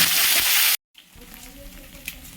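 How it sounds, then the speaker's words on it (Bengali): Ground spice paste for a mung and pea kofta curry sizzles loudly in hot oil, then cuts off abruptly and leaves a quieter, softer frying hiss. "তেল গরম হয়ে গেছে, দিয়ে দেবো বাটা মশলাটা।"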